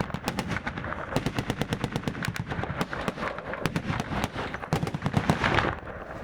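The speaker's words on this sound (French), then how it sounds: "Les balles tapent sous leurs pieds." Rapid bursts of gunfire crack around French soldiers on the Afghan front as bullets strike the ground at their feet, a dense, loud string of sharp shots in quick rhythmic volleys with brief gaps and no talking.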